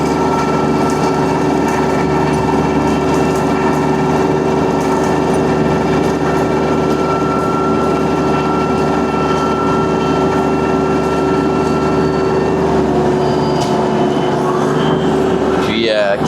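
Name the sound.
TYM T254 tractor running Bilodeau snowblower via PTO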